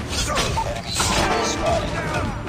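An XS-1 Goliath destroyed in a shooter game: a dense, noisy crash-and-smash burst fills the whole moment with rumbling impacts and debris, while a voice speaks over it.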